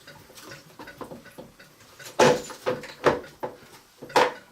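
The lid of a rotary brass tumbler is shut with a few close, hard clacks and knocks, preceded by quieter fumbling taps and handling noises, with no talk.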